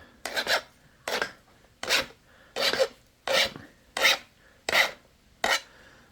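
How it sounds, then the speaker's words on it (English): Eight evenly spaced rasping strokes as a file sharpens a flintknapping flaker, close and crisp, each stroke a short gritty scrape with brief pauses between, with no talking. "I'm going to sharpen my flaker here."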